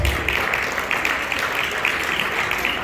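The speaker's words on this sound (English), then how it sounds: "So we have to give them a lot of applause." Gala-night audience at IgboFest in Minneapolis, Minnesota, applauds the event's sponsors. The applause is a steady, dense wash of many hands clapping at once, holding an even level for the whole stretch.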